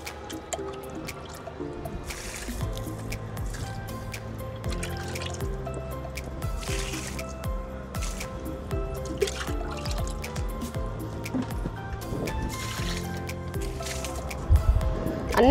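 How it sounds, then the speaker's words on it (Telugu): Kitchen waste liquid is poured from a mug onto the base of garden plants, giving soft, close dripping and splashing sounds that repeat at intervals over a steady quiet background. "ఇప్పుడు దీన్ని ఒక్కొక్క మగ్గు ఒక్క మొదట్లో పోస్తున్నాను"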